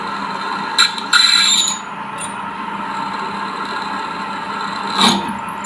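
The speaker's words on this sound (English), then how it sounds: "that's a little 2mm drill, and we'll just drill in a certain way" A small 2mm drill bit whirs steadily at a low level while drilling, with a couple of brief louder bursts near the start and another near the end.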